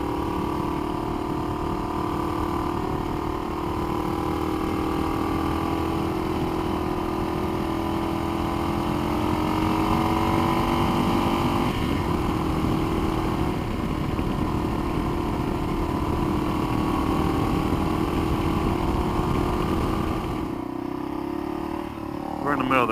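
A KLR motorcycle riding along a country road, its engine droning steadily and near throughout with a slight pitch change midway, while wind noise runs underneath and someone talks over it.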